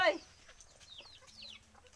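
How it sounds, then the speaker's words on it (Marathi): A brief squawk followed by soft, scattered clucks from nearby chickens in a quiet village yard in Konkan, India. "इथे सगळी कोंबडी बिंबडी आमची"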